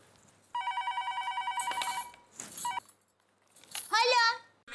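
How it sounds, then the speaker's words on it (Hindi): A telephone rings with a repeated electronic trill in steady pulses for about two seconds, then again briefly, with people talking around it in a home setting. "फोन आया।"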